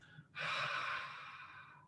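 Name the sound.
Ujjayi breathing with constricted throat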